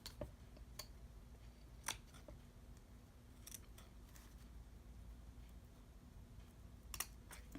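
Scissors cutting paper while a journal is made: sparse, faint crisp snips scattered over several seconds against a steady low hum, with no voices.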